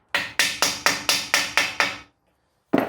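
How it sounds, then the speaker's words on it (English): Eight rapid, evenly spaced hammer blows on a Porsche Cayenne brake caliper part, sharp metallic strikes each with a short ring, then a pause and one more blow at the end. "just hammer it in"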